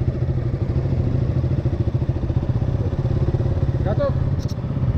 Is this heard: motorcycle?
yes